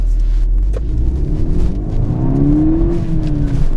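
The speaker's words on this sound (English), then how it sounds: "nowhere near the rev limiter, into second" Mk6 VW Golf GTI Edition 35 engine revving up hard in first gear, a loud, steady rising note from inside the car with a rumbling drone and a climbing whine, no talk.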